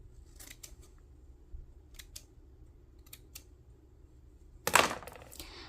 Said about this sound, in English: I'm just gonna snip this little piece off.